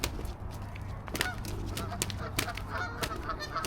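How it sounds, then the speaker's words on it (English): Fighting geese honk loudly and repeatedly at close range, with harsh, overlapping calls and bursts of scuffling throughout the short stretch. "The geese are going nuts."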